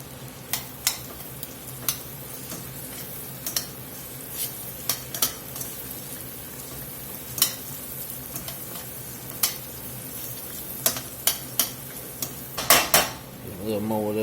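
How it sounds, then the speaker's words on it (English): Onions sauté in melted butter in a pot, with a low, faint sizzle beneath a series of sharp metallic clinks and taps from a utensil against the cookware, and a brief scrape near the end. "we're going to use all this butter to saute these onions a little bit"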